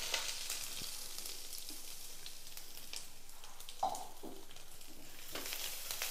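Curry leaves, dried red chillies and a ground paste sautéing in hot oil, a constant hissing sizzle with occasional soft stirring scrapes and one small clink, no speech.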